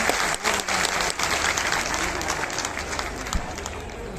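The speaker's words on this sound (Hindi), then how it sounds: "जोरदार तालियां हो जाए।" Loud, sustained audience applause at a government credit outreach program event, many hands clapping in a dense continuous wash with a few sharper claps standing out, with faint voices beneath.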